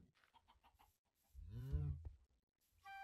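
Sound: chickens dying in the video game Minecraft

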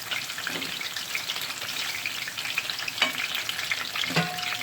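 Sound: eggplants frying in a pan

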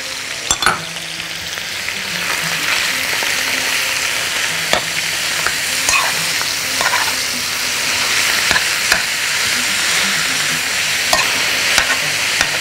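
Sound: minced meat frying with onion and spicy pepper

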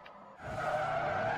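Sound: tires skidding while drifting a front-wheel-drive Honda Civic EG, Forza video game

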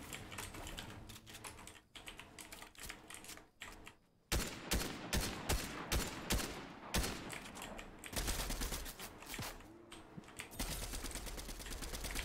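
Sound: gunfire in the video game Fortnite

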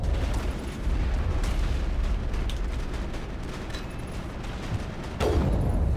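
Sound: nuke explosion on a planet in Mass Effect video game

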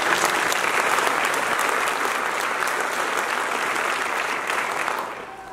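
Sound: audience applause at a graduation ceremony

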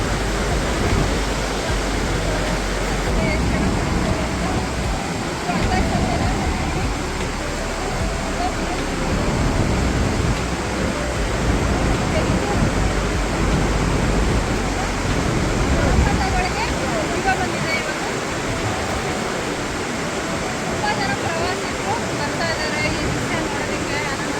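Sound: roar of the Gaganachukki waterfall

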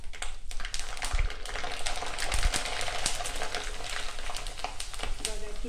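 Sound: papad frying in hot oil

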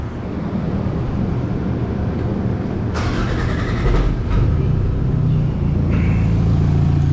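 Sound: car engine starting

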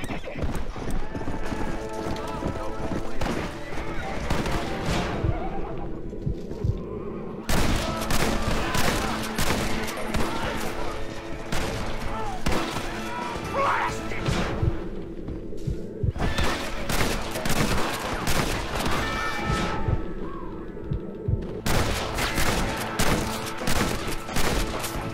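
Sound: repeater rifle gunfire in the video game Red Dead Redemption

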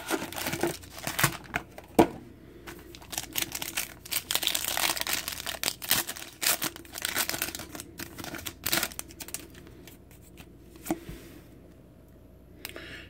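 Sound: ripping open a box of 2018 Topps WWE Legends trading cards

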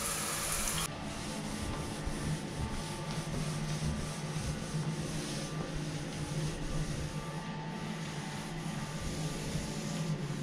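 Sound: wiping surfaces with a cloth

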